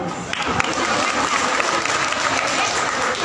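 Audience applause for Leelaben at a Gujarati community talk on saving water, a dense steady round of clapping from a crowd throughout, with a voice briefly audible underneath.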